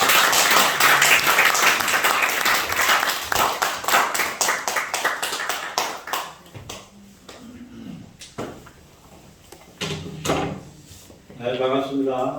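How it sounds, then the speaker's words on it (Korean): A church congregation at a Sunday worship service bursts into loud, dense applause that gradually thins to scattered claps, and voices speak over the last few seconds. "큰 박수 한번 주세요."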